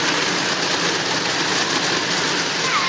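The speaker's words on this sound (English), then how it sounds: "That's the sound of a model toy train blaring past." A model toy train rushes past in a loud, continuous roaring rumble with a broad hiss, close by and unbroken for the whole stretch, with no talking over it.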